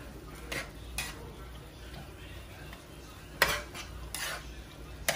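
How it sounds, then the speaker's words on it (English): Shrimp and saltfish are stirred in a pot, a spoon scraping and knocking against the metal in a few sharp clacks and swishes over a soft background sizzle. "I let my shrimp cook first, and then I add in my saltfish. I'm just mixing everything together."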